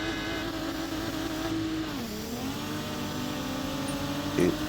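A race car in a racing video game, its engine running with an overheating fault, drones at a steady, loud pitch throughout, dipping briefly in the middle before settling back, with a short clatter near the end.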